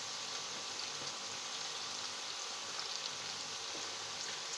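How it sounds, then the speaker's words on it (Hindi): Beef being fried with ghee, ginger, garlic and onion for nihari, giving a soft, steady, even sizzle that stays low and continuous, with no one talking. "घी, अदरक, लहसुन और प्याज के साथ आपने इसकी भुनाई करनी है"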